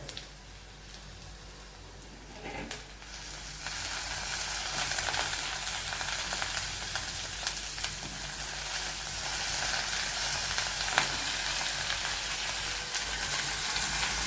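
Ginger and tomato sautéing in a pan, a steady broadband sizzle that lasts throughout, with a brief clatter near the start, then louder, even frying hiss with no voices.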